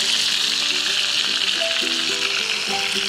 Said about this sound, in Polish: I podsmażamy jeszcze z drugiej strony.